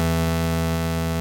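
A sustained harmonic sound processed with a sample delay and spread by a directional mixer into moderately wide stereo, a steady dense drone holding at even loudness throughout with no voices.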